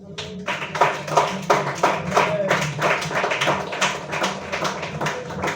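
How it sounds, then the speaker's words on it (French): A church congregation applauds during a Sunday service, with scattered, uneven claps that swell and ease over a low, steady background hum. "Est-ce qu'on peut l'acclamer encore?"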